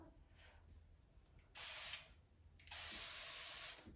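Two bursts of water spraying from a spray bottle onto hair roots, a short hiss then a longer one, close and fairly loud over a quiet background.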